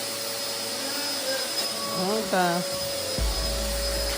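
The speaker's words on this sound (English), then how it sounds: "You sure you don't want us to vacuum for you?" A household vacuum cleaner drones steadily nearby, a loud continuous whine that shifts pitch as it is moved, while people talk over it and a thump lands near the end.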